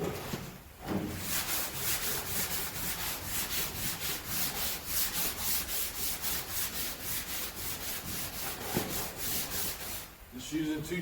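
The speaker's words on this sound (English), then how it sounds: "All right, let's keep sanding." Rhythmic back-and-forth sanding strokes of a 220 grit flat block over primer on a Ford F250 truck wheel arch repair, steady and close, dozens of even rasping passes.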